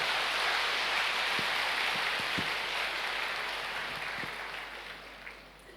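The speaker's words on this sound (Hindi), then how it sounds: "तालियों से स्वागत करेंगे।" Sustained applause from a retreat audience welcoming a newly arrived additional chief guest, a steady dense wash of clapping that slowly fades toward the end.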